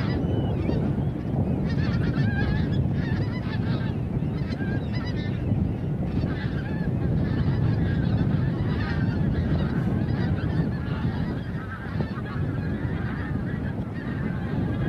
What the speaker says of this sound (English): I'm going to be quiet because I can hear geese.